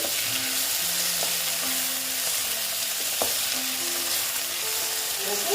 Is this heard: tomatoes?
yes